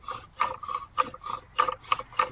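Bow drill spindle burning into a wooden fireboard, giving a rhythmic rasping friction sound in about eight even back-and-forth strokes, close and fairly loud, with no talking.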